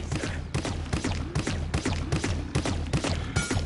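Rapid primary-fire weapon shots in an online hero shooter game, a continuous rhythmic stream of punchy thumping bursts, loud and close with no talk.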